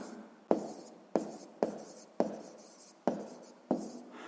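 Six crisp writing strokes arrive in a steady rhythm, each a sharp scratch that trails off, as a math exercise solution for a sixth-grade lesson is written out. The strokes are close and clear, with no talking.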